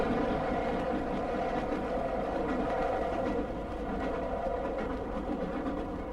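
A train rumbles past a level crossing at steady volume, wheels and carriages producing a continuous low roar with faint rhythmic clatter, no talking.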